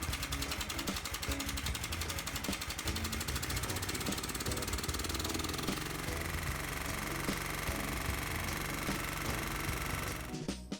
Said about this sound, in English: the tractor fires up easy enough and seems to be running fairly strong